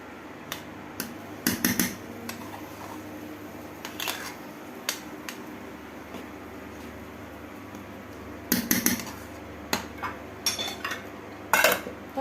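Metal spoon knocking and scraping against a cooking pot while eggplant is stirred, with sporadic clusters of sharp clinks and scrapes close by over a low steady background hum.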